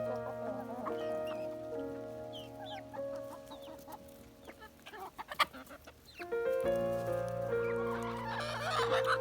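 A young rooster clucks several times close by, short throaty calls scattered over a steady tonal music bed that grows louder partway through.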